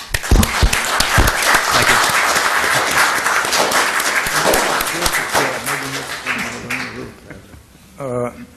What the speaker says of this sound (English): I would like to ask the audience to give these 6 candidates a round of applause